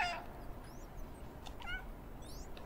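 Short cat meows from the video game Stray, a few brief calls over a quiet, low ambient background.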